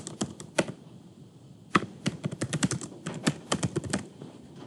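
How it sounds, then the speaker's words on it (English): Keys clatter on a computer keyboard as a title is typed into a PowerPoint slide, a quick burst, a short pause, then a longer, denser run of close, crisp keystrokes with no talking. "This time I'll just type,"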